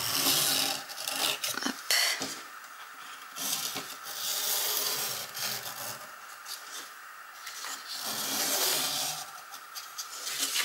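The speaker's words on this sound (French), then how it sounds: "je vais faire tout le pourtour et je vais découper ce qui dépasse" Canvas being cut along a traced pencil line around its edge, the excess trimmed off in repeated close-up rasping, rubbing strokes with brief pauses between bursts; one short word is spoken.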